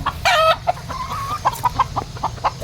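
A Sweater-breed hen clucks close by, a short loud squawk followed by a string of soft, evenly spaced clucks.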